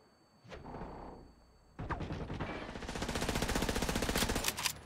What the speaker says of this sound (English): Wait, they're shooting each other.